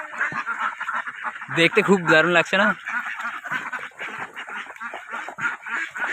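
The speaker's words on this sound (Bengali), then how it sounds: "আমার পিছনে দেখতে পাচ্ছ হাঁসগুলো কতগুলো" A flock of ducks quacks in a short burst of several loud honking calls, heard under and between a person's continuous chatter nearby.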